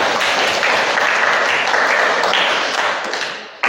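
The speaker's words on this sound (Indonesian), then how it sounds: "kita tepuk tangan buat teman kita" A classroom of students claps for a classmate after her self-introduction, dense close applause filling the room evenly before tapering off near the end.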